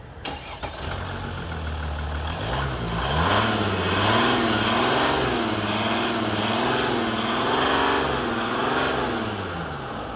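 Mercedes-Benz S 350 CDI diesel engine cranking briefly, catching and settling into a steady, close idle with slight rhythmic rise and fall in revs.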